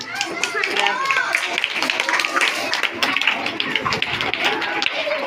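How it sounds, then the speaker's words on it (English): Group of people clapping for a winner, rapid uneven claps mixed with lively overlapping voices and shouting throughout. "Clap करें जोर से इसके लिए।"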